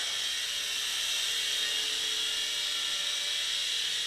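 A WLtoys S389 Tracer Z-Series RC toy flying at full speed gives a steady high-pitched whirring drone that holds constant throughout at moderate distance.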